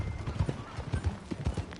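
Horse hooves clip-clopping in Horizon Zero Dawn, a quick irregular run of close hoof thuds over a faint background.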